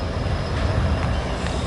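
A train passing on tracks blocked by a crossing, a loud close rumble with a couple of faint clacking accents from the wheels, steady for the whole short stretch without voices.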